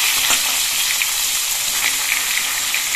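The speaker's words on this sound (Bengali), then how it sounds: "কালো জিরে আর কাঁচা লঙ্কাটা ভাজা হয়ে গেছে। এবার এর মধ্যে আমি বেগুনগুলো দিয়ে দিচ্ছি।" Eggplant pieces sizzle steadily in hot oil with fried nigella seeds and slit green chilies, a dense, continuous close-up crackle with no voices.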